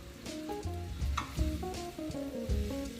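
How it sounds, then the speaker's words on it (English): Sausage and cheese fry in a skillet, giving a steady close sizzle with stirring scrapes throughout, and no voices. "We're gonna drop them into the skillet."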